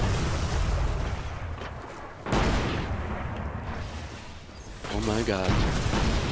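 Explosions and gunfire in the video game Destiny during a Trials of Osiris match, dense booming blasts piling up in quick succession, loud and close, with a player exclaiming over the top.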